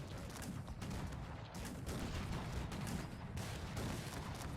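Massed musket and cannon fire in the Cossacks 3 strategy game, a dense rumbling barrage of overlapping low booms and crackles, continuous and fairly quiet overall.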